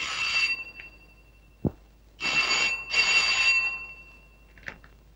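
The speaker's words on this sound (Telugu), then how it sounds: "ఫోన్ ఎత్తు" A telephone rings in bursts, three rings of electronic trilling with pauses between them, set in a Telugu film scene. A short thump comes before the later rings and a faint click follows, all fairly close and clear.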